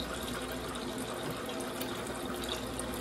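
Steady rush of filtered water pouring continuously, close by, with no voices.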